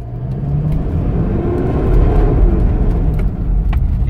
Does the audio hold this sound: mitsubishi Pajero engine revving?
yes